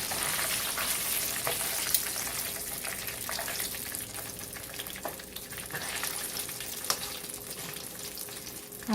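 Chicken wings frying in hot oil, a dense, steady crackling sizzle that fills the whole stretch with small pops and a few sharper spits, close and fairly loud with no talking.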